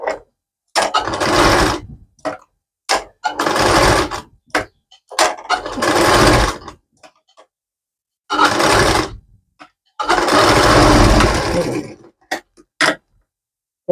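A sewing machine stitches in several loud, close bursts of rapid mechanical whirring and clatter, separated by short pauses as the fabric is repositioned.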